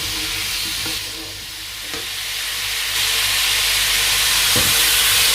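Vegetables for chicken jalfrezi sizzle loudly and steadily in a hot pan, with occasional scraping stirs cutting through the continuous hiss.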